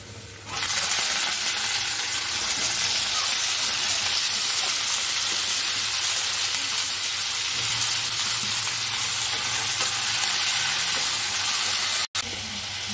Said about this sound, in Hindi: ये देखो अभी मेरा तड़का होने वाला है